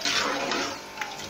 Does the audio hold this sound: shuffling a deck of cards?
no